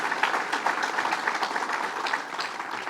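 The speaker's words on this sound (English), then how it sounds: "One more round of applause for our good county exec" Steady audience applause for a county executive at a New York bill-signing event, a crisp, continuous patter of many hands clapping in a room, moderately loud with no voices over it.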